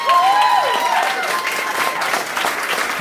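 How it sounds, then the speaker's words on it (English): Wedding guests break into a loud round of applause after a welcoming speech, with sustained, dense clapping and a brief whistle or cheer near the start. "Everybody, let's have a big round of applause for Tom Storiano."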